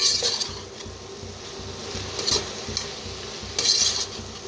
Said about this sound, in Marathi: आता मसाले घातलेत भाजून घेऊया